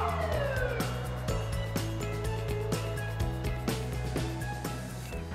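A siren from emergency vehicles responding to an apartment block evacuation wails steadily and loudly over a dense, sustained tonal background, with no talking.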